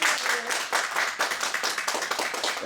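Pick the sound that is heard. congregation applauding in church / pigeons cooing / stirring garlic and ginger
congregation applauding in church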